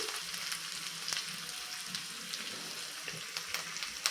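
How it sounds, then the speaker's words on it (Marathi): Onions sautéing in ghee in a pan for paneer butter masala, giving a steady, soft sizzling hiss with a few faint scrapes and clicks of stirring and no voices. "हे साधारण अजून दोन ते तीन मिनटे छानपैकी आपण परतून घेऊया तुपावरती"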